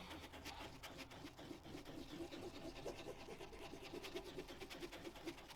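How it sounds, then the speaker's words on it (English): A wooden stick scrapes in tight circles along the bottom of a container, mixing hardener into filler, giving a continuous faint rubbing and rasping with a rapid repeating rhythm, close up and without talk. "And I just do nice, tight, concentric circles, scraping the bottom."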